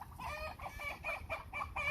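Faint, repeated sharp clucking calls from turkeys sound in quick succession, about seven alarmed notes in under two seconds, somewhat distant.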